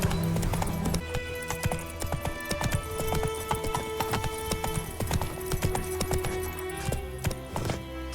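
Roach the horse gallops in The Witcher 3, hooves pounding in a steady, busy rhythm under a loud, dense game score throughout.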